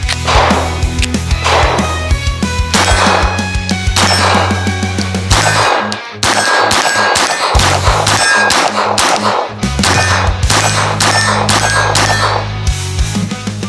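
A Glock 22lr conversion kit fires fifteen Federal Auto Match rounds in a steady string of loud, sharp, ringing shots with brief gaps, the cracks closely spaced and carrying through to the end with no talking.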